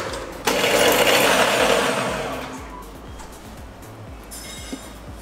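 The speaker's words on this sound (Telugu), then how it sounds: "దీన్ని మిక్సీ పట్టేద్దాం." A mixer grinder whirs loudly as it blends a paste with water. The motor starts abruptly, then fades and slows, and a few small knocks follow.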